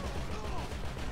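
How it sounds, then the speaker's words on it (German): Rapid gunfire from GTA V Online, with shots striking right at the player's camera, forming a dense, continuous barrage of game sound close up throughout. "Ja, ich krieg die ganze Zeit Schüsse in die Fresse."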